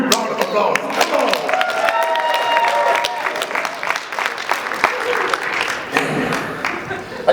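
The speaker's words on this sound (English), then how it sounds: "a huge round of applause" Loud, sustained audience applause with some cheering fills a live stage event honoring the speakers, steady dense clapping throughout with crowd noise mixed in.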